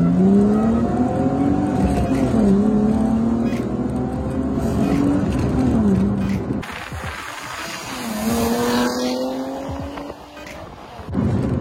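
A 1997 BMW 323i E36 engine revs hard in first gear, with rising and falling harmonic sweeps from a loud, close engine that drops briefly around a shift before climbing again.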